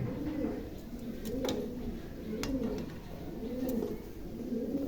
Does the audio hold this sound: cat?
no